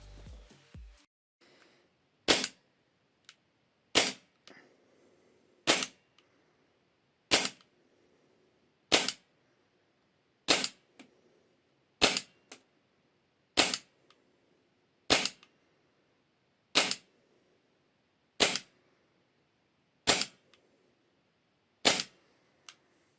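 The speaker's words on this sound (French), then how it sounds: "je peux vous dire qu'on tire droit et loin avec cette réplique" Sharp, snappy shots from a Novritsch SSP28 airsoft replica firing BBs, about thirteen evenly spaced single shots roughly every second and a half, loud and close with quiet gaps between them and no talking.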